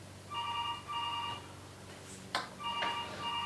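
A telephone rings in short, regular bursts of a bright electronic tone, fairly faint in a quiet room, with a brief thump in between.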